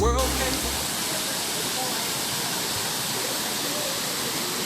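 The Maya King waterfall in the Belize jungle pours in a constant loud hiss of falling water and spray, filling the scene evenly from start to end after a brief opening moment.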